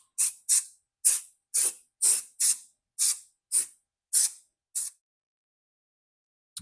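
Ten short, sharp bursts of spray from a nozzle hiss out in a quick, slightly uneven rhythm while adhesive is applied during a Volkswagen headliner install, close and clear, then silence.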